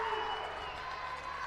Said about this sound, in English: Very enthusiastic crowd here today.